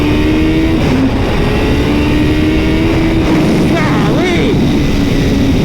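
A motorcycle accelerating hard through third gear on an open stretch, the engine note loud and rising steadily with a sustained roar close by.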